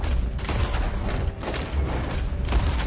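Gunfire in Red Dead Redemption 2 comes as dense, loud, booming shots layered over a constant roar of battle, close and continuous throughout.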